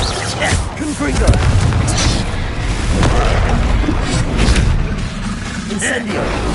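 Repeated explosive spell blasts from Confringo and other attack spells in the game Hogwarts Legacy, booming low and loud in a dense, continuous barrage with crackling debris and game effects throughout.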